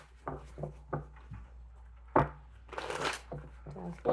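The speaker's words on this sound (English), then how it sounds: "One more shuffle for Virgo, please." Tarot cards are shuffled in quick bursts of riffling and snapping, several times with short pauses between, close by over a faint low hum.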